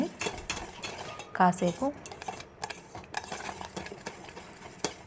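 A spoon stirs a fruit custard mixture in a bowl, making soft, repeated scraping and clinking against the bowl, while a voice briefly speaks a word.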